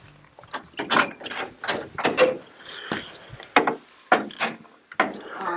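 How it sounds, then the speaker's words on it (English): Greenhouse door being opened in a spring garden in the Oregon Coast Range, a series of close wooden knocks, scrapes and rattling clicks in an irregular rhythm, fairly loud against quiet surroundings. "Right now I'm just going to open up the greenhouse so that it doesn't get too warm in here."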